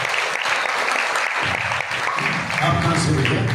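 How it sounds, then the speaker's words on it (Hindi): Church congregation at a conference in Ludhiana clapping to welcome first-time visitors, a brisk burst of applause in a hall with a voice speaking over it. "आपका तो ताली बजाकर हम स्वागत करते हैं"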